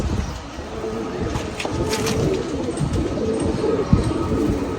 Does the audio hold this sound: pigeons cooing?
yes